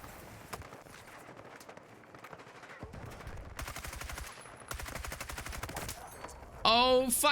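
Bursts of automatic AK rifle fire in a Battlefield match, several rapid rattling volleys at steady loud level over a busy game soundscape, ending in a sharper burst.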